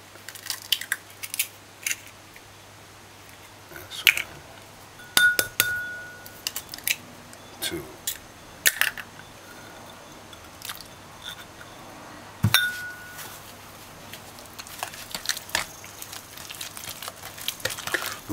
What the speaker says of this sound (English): add the eggs, 2 eggs at a time, and break them in a separate dish